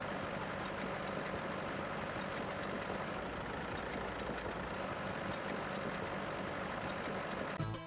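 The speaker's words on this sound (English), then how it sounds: "it actually sounds like a tractor engine" A steady, low tractor engine drone from Farming Simulator on the Mega Drive rumbles on without a break, like a tractor idling, fairly quiet and unchanging throughout.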